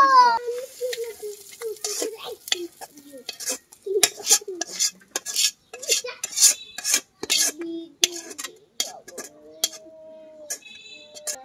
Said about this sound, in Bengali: মাছের ডিমটা ঢেলে নিলাম।